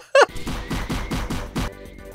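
AK rifle fire in a Roblox game: a sharp first shot followed by a steady, rhythmic burst of about six evenly spaced rounds, loud and close, then a brief quiet tail.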